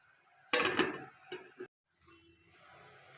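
A metal lid clatters onto a pan of palak palya cooking on the stove, a short burst of clanks and rattles close by, followed by a few small knocks and then quiet kitchen background.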